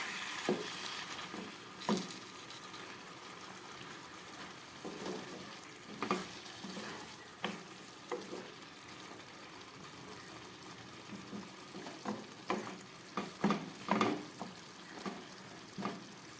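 Chicken frying in mutton fat in a pan is stirred, giving a soft continuous sizzle broken by scraping, clattering stirring strokes that grow more frequent toward the end.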